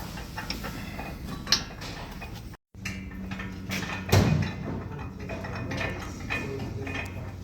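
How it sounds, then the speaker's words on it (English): A nut being tightened on an M12 bolt while a bull bar is fitted to a pre-facelift 200 Series Landcruiser, heard as quiet metallic clicks and ratcheting with a couple of soft clunks, close by. "I'm just tightening up one nut on each side."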